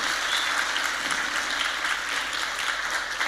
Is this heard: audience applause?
yes